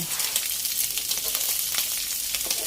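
Garlic, dried chilli, kaffir lime leaves and shallots stir-fried in a pan for a pork belly dish: a steady, bright sizzle of frying with occasional scraping stirs, close and continuous.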